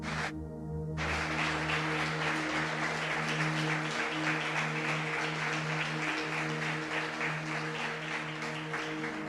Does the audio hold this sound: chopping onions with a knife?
no